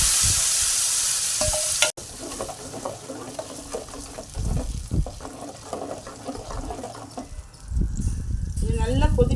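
Ground onion and tomato paste drops into hot oil with a sudden hiss, then sizzles and bubbles unevenly while being stirred, with someone talking over the cooking.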